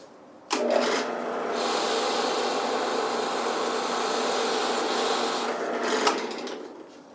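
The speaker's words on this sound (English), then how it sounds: "Okay, last couple holes, and we'll be done with the drilling." A power drill bores a hole in a single sustained run of about five and a half seconds, with a loud, steady whine and grind that starts abruptly and then cuts off, all close by.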